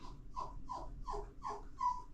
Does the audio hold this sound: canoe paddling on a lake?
no